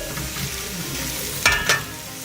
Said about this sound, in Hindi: 4 टेबल स्पून हम ऑयल के ऐड करेंगे, प्याज ऐड करेंगे, इसको हम लाइट ब्राउन होने देंगे